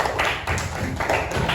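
A classroom group claps hands together, brisk overlapping claps in a steady burst close by, with a faint voice underneath.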